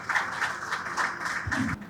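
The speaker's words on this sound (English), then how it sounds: "A round of applause to them, please." An audience at a startup tech event in Enugu gives a short round of applause, with quick, evenly spaced bursts of clapping at moderate loudness through the whole moment.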